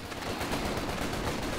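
MG42 machine gun firing from a bunker in Company of Heroes 2, a dense, loud, unbroken burst of rapid gunfire filling the whole moment with no talk.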